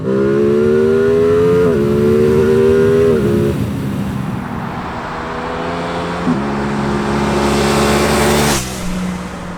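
Aprilia Tuono 660 Factory motorcycle engine, loud and close, rising through the revs in steady pulls with a few brief dips where gears change, then climbing again before a sharp cut near the end.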